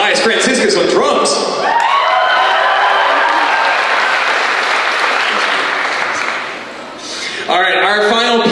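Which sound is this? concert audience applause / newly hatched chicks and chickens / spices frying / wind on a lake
concert audience applause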